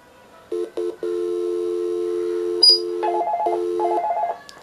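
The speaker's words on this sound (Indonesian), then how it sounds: "ketika ini off hook, maka dia langsung akan mendial ke extension 101" A homemade telephony device goes off hook and automatically dials extension 101: a steady tone broken by short gaps, then a series of clean, loud two-pitch dialing beeps in an even rhythm, with no voices.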